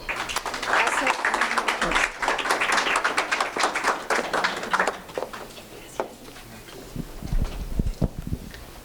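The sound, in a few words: audience applause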